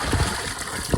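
Rainwater in a green tote fitted with a floating water valve sloshes and splashes steadily and close by for a moment, with no talk.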